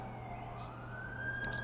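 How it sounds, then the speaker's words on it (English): Ambulance siren in the video game The Amazing Spider-Man 2, a faint wailing tone rising steadily in pitch over a low rumbling background, heard briefly from a distance. "That's the ambulance I called."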